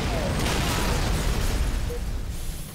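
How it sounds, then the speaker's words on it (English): A Wraith's cannon is blown off in the video game Halo Reach, heard as a dense burst of explosive, crackling game noise that runs continuously and loud for a few seconds. "I shot my own cannon off."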